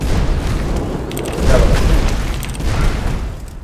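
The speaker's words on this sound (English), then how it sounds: "Explosive rock." Explosive rock spell striking in the fantasy video game Magicka, a dull booming impact swelling up midway over a dense rumbling game mix and fading out.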